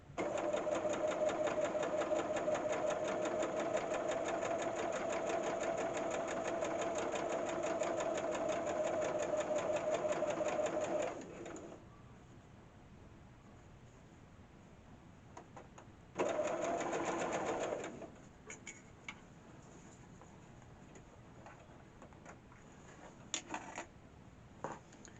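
A sewing machine stitches a quilt seam in a steady, close, continuous run for about eleven seconds. It stops, gives a short second burst, then leaves quiet with a few small clicks.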